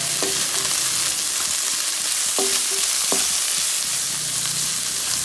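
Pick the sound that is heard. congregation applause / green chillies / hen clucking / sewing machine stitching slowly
green chillies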